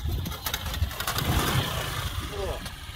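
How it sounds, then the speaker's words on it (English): A Suzuki GN125 motorcycle engine runs out on a dry lake bed, a steady, close low putter with a slightly rattly edge and wind buffeting over it. "listen to that smooth, uninterrupted, serene engineering and engine noises"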